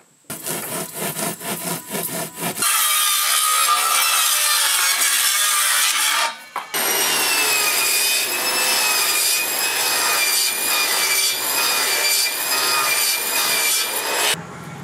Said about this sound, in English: Now I just like taking a sawzall, cut the top web.